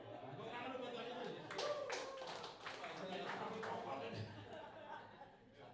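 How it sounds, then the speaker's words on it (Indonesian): An elderly prayer fellowship group claps hands in a short, faint, loosely rhythmic patter, mixed with chuckles and people talking in a room. "Tepuk tangan dulu buat Tuhan Yesus."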